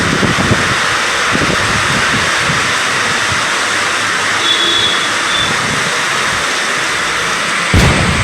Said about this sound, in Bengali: দেখো দেখো কী হারে বৃষ্টি হচ্ছে